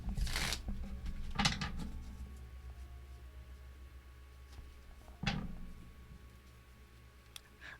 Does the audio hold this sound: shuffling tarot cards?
yes